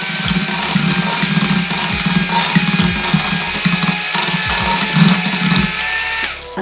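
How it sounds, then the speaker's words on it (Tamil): An electric mixer beats melted butter for a New Year cake batter, giving a loud, steady motor whine with a rhythmic churning rattle of beaters in the bowl, cutting off near the end. "இப்போ வெண்ணெய் போட்டதுக்கப்புறம் லைட்டாக வந்து நம்ம பீட் பண்ணிக்கலாம்"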